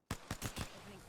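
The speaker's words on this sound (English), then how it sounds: "Opening fire." Gunfire in the Apex Legends video game, several quick sharp shots in a short burst with a brief decaying tail.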